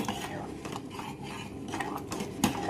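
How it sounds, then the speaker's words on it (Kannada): Stirring boiling lentils (rice and dal) in a cooking pot, with scattered scraping clinks of a utensil against the pot in a steady stirring rhythm, close and fairly quiet, over a soft background hiss. "ಆ ತರ ತಿರ್ವ್ಯಾಡ್ಕೋರಿ."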